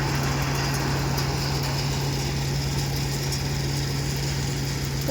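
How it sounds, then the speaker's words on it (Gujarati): A tractor engine runs steadily nearby, a constant droning hum with a low buzzing tone and no pauses. "હજી ટ્રેક્ટર શરૂઆત જ થઈ છે ભૂકણીની"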